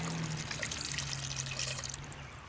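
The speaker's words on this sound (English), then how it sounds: "I'll probably put just a little bit more water in there." Water poured into a pot of stew as it cooks, a soft steady trickle and splash, fairly faint and continuous.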